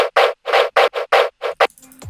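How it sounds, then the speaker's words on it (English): Seven short, punchy gunshot-layer bursts in tearout bass sound design, in a choppy rhythm, each a loud broadband crack with a heavy low-mid body, ending in a brief noisy tail with a falling tone. "Then on top of that, we've added a gunshot layer,"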